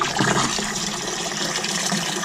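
Water gushes from a garden hose into a dustbin holding a boat outboard engine, a steady broadband rush with a brief splashy surge near the start, close and loud with no talking.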